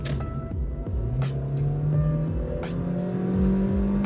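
An old, cheap car bought for about $500 accelerates hard up a highway on-ramp, its engine drone rising steadily in pitch and staying loud and continuous from the cabin, with no talk.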